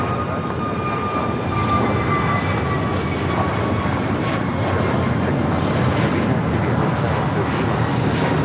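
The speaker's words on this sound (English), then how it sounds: "This is American Airlines 2284 going to Miami on Airbus A321U" An American Airlines Airbus A321 jet airliner bound for Miami moves at Los Angeles International Airport, a loud sustained engine roar with steady high whining tones, close and continuous throughout.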